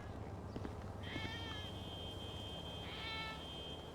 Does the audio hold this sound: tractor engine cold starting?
no